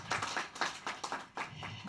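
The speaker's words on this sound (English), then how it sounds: "Let's give our wonderful moderator a fantastic hand clap" Audience applause for the moderator at a governance and accountability training event, a fairly quiet and uneven scatter of hand claps that builds into a continuous patter, heard from some distance.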